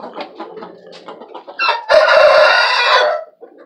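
Chickens cluck in a short, choppy series, then a rooster lets out one loud, close crow lasting about a second, followed by a few more soft clucks.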